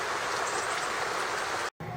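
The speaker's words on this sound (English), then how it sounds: "So it doesn't only rain in the Philippines, it also rains in Pennsylvania." Steady rain falling in Pennsylvania, a dense even hiss filling the clip without voices, cut by a brief silent gap just before the end.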